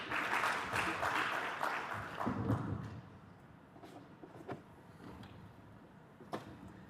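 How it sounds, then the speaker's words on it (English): Audience applause at a Pan African conference, a burst of clapping from a seated crowd that fades after a few seconds into scattered claps and faint room noise. "A round of applause for him."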